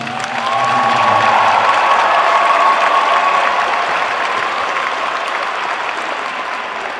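Audience at a high school competitive cheerleading state finals breaking into loud, sustained applause for the teams, dense clapping and some cheers filling the hall and slowly tapering.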